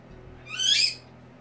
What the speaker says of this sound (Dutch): Hoe heet die ook weer, die vogel?